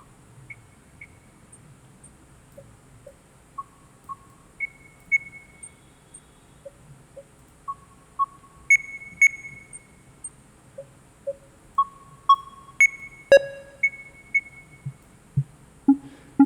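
Sparse, bright electronic blips from a KlirrFactory Mr.Q synthesizer plugin sequencer play a stepping pattern over quiet soft thumps, with a sharper glitchy burst partway through.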